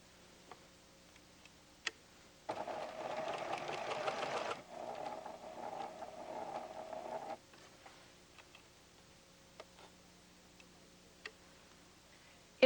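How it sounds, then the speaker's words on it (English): A Pfaff Creative 7550 sewing machine stitches in a steady rapid run of needle strokes, starting abruptly and slowing briefly before stopping, with quiet clicks before and after. "For now, let's just sew it."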